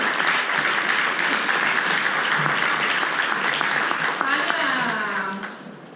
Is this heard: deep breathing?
no